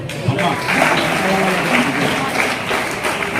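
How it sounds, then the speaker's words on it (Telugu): A crowd claps for children at a labour minister's event, a dense continuous patter of applause mixed with voices throughout. "వీరందరూ కూడా ఈ పిల్లలందరికీ క్లాప్స్ కొట్టాయి"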